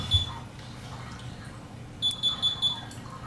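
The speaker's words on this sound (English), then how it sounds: "You hear the alarm sounding" A saltwater aquarium leak controller alarm sounds after its sensor gets wet, a few short high electronic beeps in a quick run near the end, over faint water trickle and background hum.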